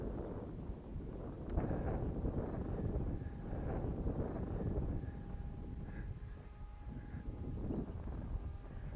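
A continuous low wind rumble batters the microphone, rising and falling in gusts throughout, with no voices.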